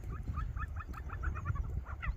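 A large bird calls in a snowy high-mountain desert near the Cho La pass, a rapid series of repeated clucking, gobbling notes over a low rumble of wind, moderately close and clear with no talking.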